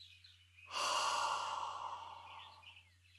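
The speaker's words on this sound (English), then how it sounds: "Take a deep breath in." A single long, audible exhale through the mouth, soft and close, lasting a couple of seconds over a faint low hum.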